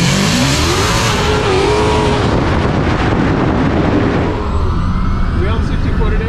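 Drag race car launching down a quarter-mile strip, heard from inside as a loud, continuous engine roar with heavy wind buffeting, rising in pitch as it accelerates; voices talk over it.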